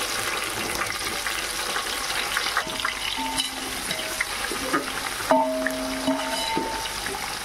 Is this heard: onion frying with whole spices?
yes